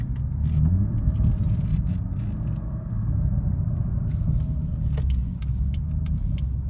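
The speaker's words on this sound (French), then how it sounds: "Là les valves viennent de s'ouvrir." A BMW 440i M Performance, 360 hp, rumbles with its exhaust valves open, a deep steady throb heard from close by that swells slightly and holds, with faint clicks over it and no talking.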